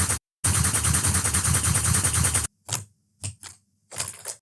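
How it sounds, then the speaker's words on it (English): Gunfire effect for a shooting mechanic in a Godot game: a long burst of rapid, loud automatic shots, then a pause and several short, sharp single shots. "drag and drop the shooting sound"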